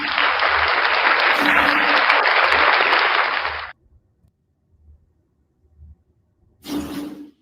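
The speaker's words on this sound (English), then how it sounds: "Round of applause for Van Valier" A loud, dense burst of applause from a small crowd at a morning breakfast show lasts a few seconds and cuts off, followed by near silence with faint thumps and then a second short burst.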